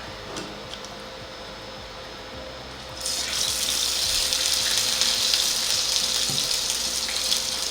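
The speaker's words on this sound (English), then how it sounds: "get your pan really hot, pour the" A steady pouring, gushing sound of canola oil poured into a very hot pan starts partway through and continues without a break, loud and close.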